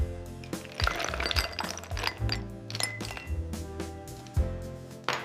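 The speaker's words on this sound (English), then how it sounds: "Fill a tall glass with lots of ice." Ice cubes clink and tumble into a tall glass for a protein iced coffee, a busy run of bright glassy knocks and rattles, close and fairly loud, with no talking.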